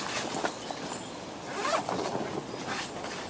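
A zipper runs steadily around the flap of a fabric front roof storage bag in a VW T25 T3 Vanagon Westfalia camper van, a close, continuous scratchy rasp lasting a few seconds with no talking.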